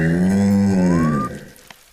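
Cartoon cow giving a long, loud, low moo that rises into a bending higher call before fading away.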